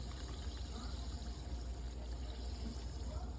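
Seltzer water pours steadily into a glass as an ingredient for a game-night appetizer, giving a soft, continuous fizzing trickle close by with no talk over it.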